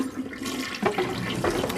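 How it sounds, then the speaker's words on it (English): A toilet flushes with a loud rushing gurgle of water, close and brief, swelling into a burst of swirling water. "Now flushing your poop."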